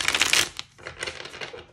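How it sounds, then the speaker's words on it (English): A deck of tarot cards being shuffled close up, a dense riffling rustle that pauses briefly mid-way and then carries on more softly, with no talking. "I'm gonna give it one more shuffle."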